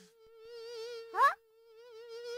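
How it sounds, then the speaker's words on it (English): A cartoon mosquito buzzes in a thin, wavering high-pitched whine that holds steady for a couple of seconds, broken by a brief louder warble in the middle, then resumes quietly. "Oh, a mosquito."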